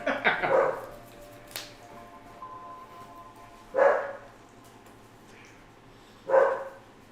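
A pet dog barks indoors during a live gaming stream, with a loud burst at the start and two more sharp barks a few seconds apart, set against a quiet room hum and faint game sounds.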